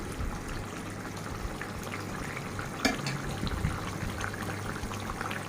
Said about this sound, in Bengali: এরকম বলক দেখে কিন্তু আপনি বুঝতে পারবেন যে আপনার তরকারিটা প্রায় শেষের দিকে